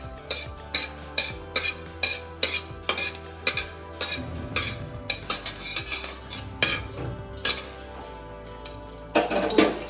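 Mustard seeds and nigella seeds in hot oil, heard as a regular run of sharp metallic taps and clinks from a spoon on the pan over a light sizzle, followed by a brief burst of crackling near the end.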